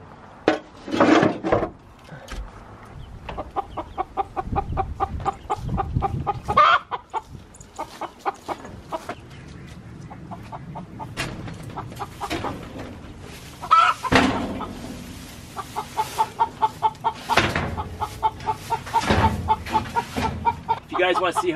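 Chickens and chicks cluck inside a wooden backyard coop built for the young birds. The clucking comes in close bursts of varying pitch, with wooden knocks and rustling between them.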